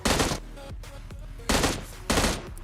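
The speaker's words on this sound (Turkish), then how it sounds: "Şimdi ise hafif makinayla vuralım." Light machine gun firing in a video game: three loud, sharp bursts of rapid automatic fire, each a fraction of a second long, separated by short quiet gaps.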